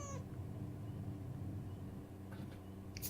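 A cat meows briefly at the very start, with a couple of fainter possible cries later, all set against a steady low indoor hum.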